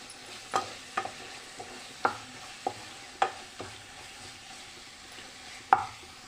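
Tomato dal is stirred in a pot after chili powder is added: a spoon knocks against the pot in sharp, irregular taps about once a second over a quiet background, close and fairly faint.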